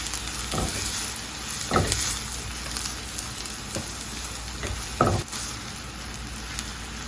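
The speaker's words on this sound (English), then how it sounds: "Now we're gonna saute this and cook the onions until they're translucent." Onions and pepper sautéing in a pan for Jamaican beef patties, a soft steady sizzle with intermittent scraping stirs of a utensil, close and fairly quiet, no voices.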